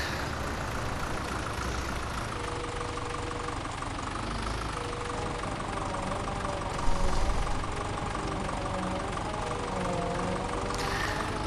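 Tractor engine in the Farming Simulator 17 video game runs steadily throughout, a continuous mid-pitched idling drone with a brief louder surge partway through, no talk over it.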